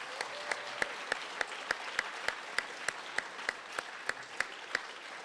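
Applause for the culinary program at a career and technical center completion ceremony: a steady, evenly spaced clap rings out over a soft wash of audience clapping, heard from a moderate distance with no talking.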